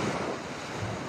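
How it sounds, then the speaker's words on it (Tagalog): Ocean surf washes onto a calm seashore with small waves, a steady broadband roar mixed with wind buffeting the microphone, close and continuous, with no talk. "hindi gaanong malaki ang alon"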